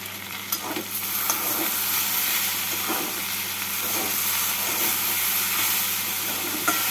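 Okra and potatoes fry in a pan with chili powder, sugar and green chilies, giving a steady sizzle and hiss while a spoon scrapes and stirs now and then.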